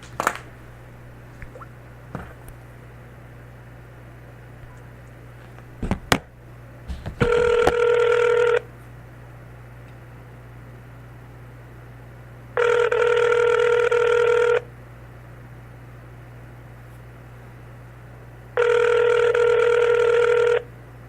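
Outgoing telephone call ringback tone, three evenly spaced two-second rings separated by several seconds of quiet line hum, following a few faint clicks from dialing.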